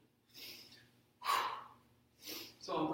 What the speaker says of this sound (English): So I'm breathing out as I come up, in as I go down.